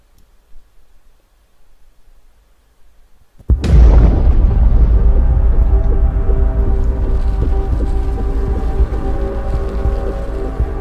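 A Sorcery DPS Fan Blasters power is cast in the DC Universe Online video game, opening after a few quiet seconds with a sudden loud blast that settles into a sustained roaring, rumbling wash of magical energy with no speech.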